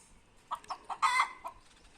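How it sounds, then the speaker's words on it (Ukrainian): A rooster in a farmyard lets out a short series of clucks rising into a brief crow, close and moderately loud against a quiet background. "І півник"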